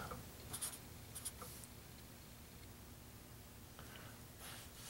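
Pen or pencil scratches across paper in short strokes, a few quick bursts near the start and again toward the end, faint and close over a quiet hiss.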